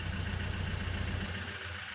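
A jeep on an off-road safari track in Munnar idles steadily nearby, a low continuous engine rumble with a slight drop in level toward the end.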